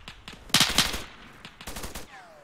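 Gunfire in the Arma 3 video game: two loud, close bursts of rapid automatic shots separated by a short pause, with a faint whistle trailing after.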